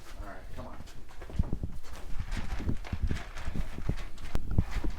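Horses walking on firm ground as they come in for feeding, with steady clip-clopping hooves at close range and brief human voices in the background.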